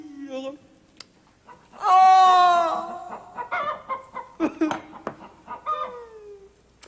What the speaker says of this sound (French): apporte-moi ma poule préférée